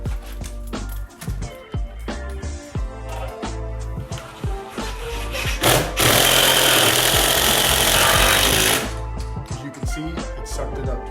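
A power tool drives fasteners into a door frame during a door installation, with a loud sustained whirring burst of a few seconds amid scattered knocks and handling clatter.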